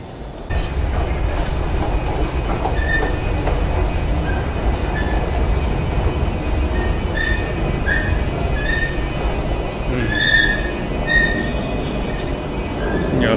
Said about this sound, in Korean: 여기가 지금 브뤼셀 노드역입니다